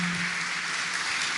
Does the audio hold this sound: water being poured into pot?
no